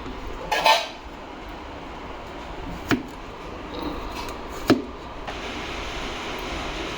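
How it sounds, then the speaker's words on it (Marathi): A knife peels the skin off a red pumpkin: a few sharp scraping clicks and taps stand out over a steady, hissy kitchen background, with no talking. "हे अशा पद्धतीने आपल्याला भोपळ्याची साल काढून घ्यायची सगळी"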